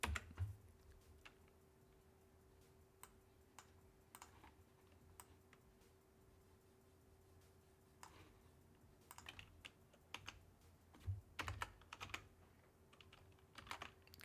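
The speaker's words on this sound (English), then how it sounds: "keep typing numbers I don't mean" Typing on a computer keyboard, soft close key clicks in irregular clusters over a quiet room with a faint steady hum, growing busier toward the end.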